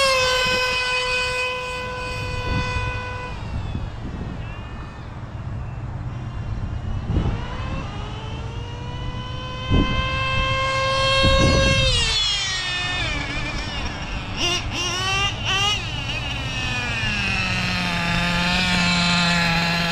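A Serpent SRX8GT on-road RC buggy with its stock nitro engine screams at top speed, a high whining tone that climbs steadily, then sputters and wavers as it passes and drops back to a lower drone.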